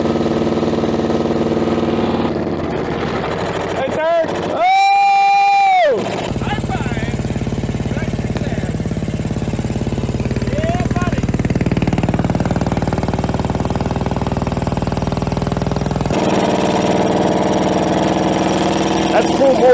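A long-dormant CAT D8 dozer engine runs at full throttle in low range with a loud, steady roar throughout, broken briefly by a high whine, while people talk over it.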